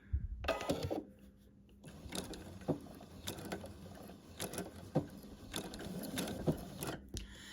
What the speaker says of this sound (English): It's really very easy to machine applique an English paper piece motif onto